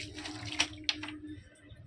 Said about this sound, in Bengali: ওকে জল দেবো বালতিতে করে।